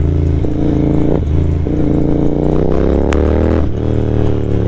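Royal Enfield GT 650 motorcycle with a Moto Torque aftermarket exhaust, idling loud and close with a deep, steady throb and one brief rise in revs, with no talk over it.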